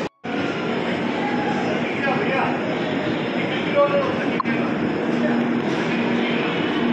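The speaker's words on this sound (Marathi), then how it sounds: "निघाली आहे ट्रेन." A train leaves Nashik Road station with a loud, continuous rumbling roar of wheels and carriages rolling by close at hand, plus a brief thump, heard on a busy platform.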